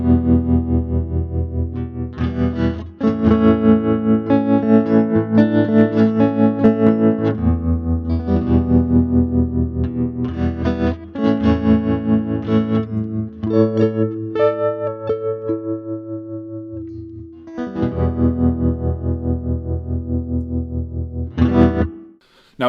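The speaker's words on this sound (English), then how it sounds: "I'll just switch on the tremolo circuit so you can get some idea of that as well" A Laney guitar amp with its tremolo circuit switched on plays a clean tone, speed set fairly high and depth past halfway, giving steady sustained chords that pulse throughout, loud and close with no talk.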